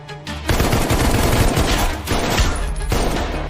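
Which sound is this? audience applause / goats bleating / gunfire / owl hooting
gunfire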